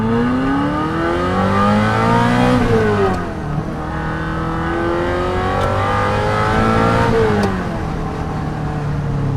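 A Ferrari 348 V8 engine revs up and down through the gears in long rising sweeps, loud and continuous, with no talking.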